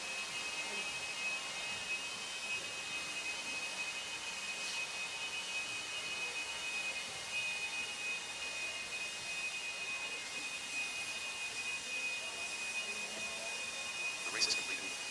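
Blowers clear a race track at the 2024 Desert Classic race, making a steady, faint, distant whooshing drone with a thin whine that runs unbroken through the whole stretch.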